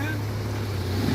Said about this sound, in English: trying to spool up the turbos on this Cummins.